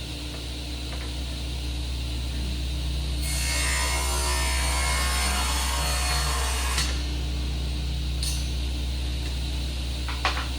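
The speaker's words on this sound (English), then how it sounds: "I start by ripping the boards down to the final width of the shelf" A power saw rips scrap wooden boards down to shelf width, with a steady motor hum and a brighter cutting whine through the middle of the cut, close and fairly loud.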